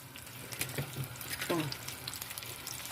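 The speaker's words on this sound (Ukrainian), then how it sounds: "і воно починає грітись і смажитись заразом" Small pieces of meat fry in a pan during home meal prep, a faint, steady sizzle with occasional clicks and stirring sounds nearby.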